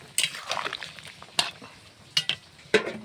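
Ground ginger, cumin, mustard and garlic paste frying in oil, with a soft sizzle broken by several sharp clinks and scrapes of a utensil stirring against the pan.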